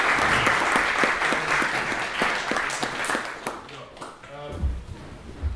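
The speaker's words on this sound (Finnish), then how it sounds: "annetaan aplodit" A seminar audience claps together, dense and loud for about four seconds before thinning into scattered claps and fading, with a voice speaking and room noise at the end.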